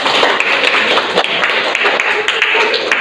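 Classroom applause after a student named Nanda presents, a steady dense patter of many hands clapping that fills the whole stretch at close range.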